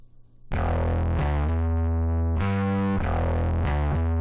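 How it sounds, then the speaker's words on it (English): A bass synth distorted by a limiter in the Big Clipper plugin plays a slow, repeating pattern of sustained notes, gritty and saturated, loud and alone with no voices. "the limiter turns into its own distortion"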